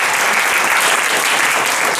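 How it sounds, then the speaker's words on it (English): Audience applause fills a comedy club during a Lancaster University comedy night at the Dukes, a dense, steady clapping that stays loud and even throughout. "so please round of applause for them."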